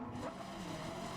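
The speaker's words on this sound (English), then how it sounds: "here's some very bad quality Richard Burns Rally Hungarian mod driving in the background" A rally car in the Richard Burns Rally Hungarian mod drives steadily, its engine droning at a held pitch with faint tyre noise, low in level and distant-sounding.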